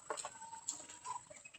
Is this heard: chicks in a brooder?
yes